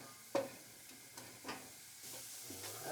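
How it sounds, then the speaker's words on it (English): Ingredients browning in a pot for chowder are stirred, giving a few scraping clinks over a soft steady sizzle, with quiet spaced utensil knocks. "And we let that brown up, and just stir things around in there."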